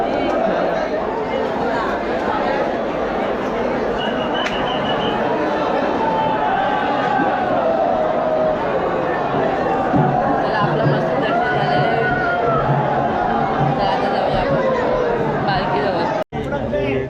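A large crowd chatters and murmurs steadily at an outdoor temple palanquin festival for Ekvira Aai, a dense, continuous babble of many nearby voices with occasional louder calls rising above it.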